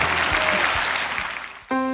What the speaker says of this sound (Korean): 치료하신 하나님께 감사와 영광의 박수 올려드립니다